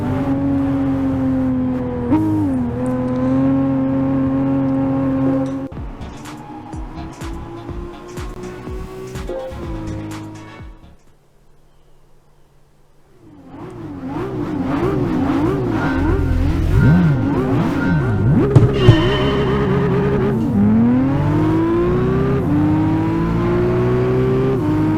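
A Nissan Skyline ER34 race car in Gran Turismo 5 revs hard through the gears, its engine climbing and dropping loudly with tire squeal, briefly falling near silent before roaring back up to full throttle.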